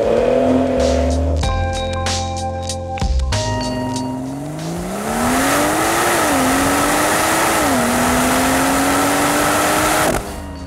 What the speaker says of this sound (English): This thing flies off the line